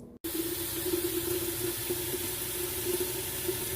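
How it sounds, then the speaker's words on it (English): Water runs steadily into a container for making herbal tea, a continuous close rushing pour that starts abruptly after a brief silence and holds an even level throughout. "I put the water in there, and I put the herbs in there actually at the same time."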